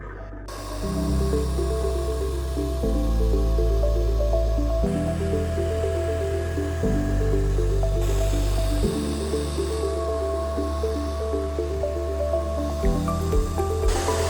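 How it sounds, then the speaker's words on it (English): Water swishes and drips steadily inside a robot vacuum's base station as it washes the roller mop with hot water, partly masked by rhythmic background music that plays throughout. "Let's start washing the roller mop with hot water."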